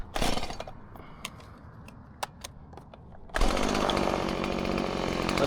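Chainsaw fitted with a modified chain with most teeth removed, idling with sharp clicks before the throttle opens into a loud, steady high-revving buzz as it cuts into wood, close by.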